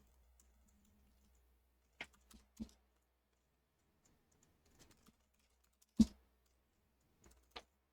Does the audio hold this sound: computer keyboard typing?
yes